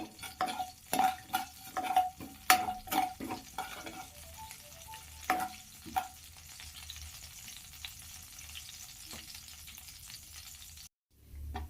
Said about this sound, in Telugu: ఉద్దిపప్పు 1/2 టేబుల్ స్పూన్ వేసుకొని ఇలా ఎరుపు రంగు వచ్చే వరకు ఫ్రై చేయాలి